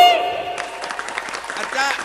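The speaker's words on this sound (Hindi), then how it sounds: "बजाओ ताली भाई।" Audience clapping at a Hindi comic poetry gathering, with poets trading playful barbs: a dense patter of applause rises after a brief opening tone and carries on steadily, fairly loud, with voices mixed into the crowd noise.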